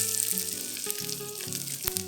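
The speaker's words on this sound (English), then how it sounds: "Fry this till they are fragrant and the garlic turns a little brown." Dried shrimps, chilies and garlic frying in a wok, a loud, dense sizzle with tonal ringing from the pan and a few scrapes of a spatula, no one speaking.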